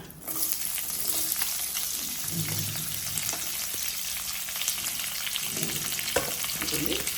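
Cashews, onion and garlic frying in hot oil in a pan for vegetable lemon rice, a steady close sizzle with occasional stirring scrapes, no voices.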